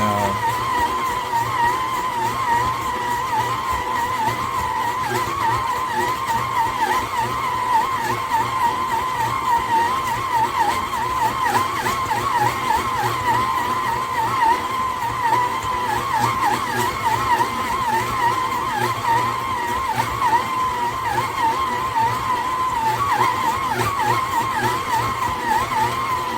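A Kitchen in the box 6.5-quart 660W electric stand mixer kneads dough with a steady, loud motor whine and droning hum that runs unbroken for the whole stretch, with no voices.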